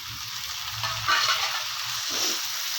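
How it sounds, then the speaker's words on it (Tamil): Three medium tomatoes fry steadily with onions in a pan, with a couple of brief bursts of louder hissing as they are stirred. "மூணு மீடியம் சைஸ் தக்காளியை சேர்த்துக்கிறேன்"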